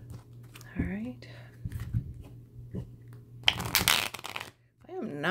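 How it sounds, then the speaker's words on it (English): A deck of tarot cards is shuffled by hand in a quiet room, with soft scattered riffles building to a loud, dense burst of shuffling, alongside faint vocal sounds. "I am not shuffling so good today."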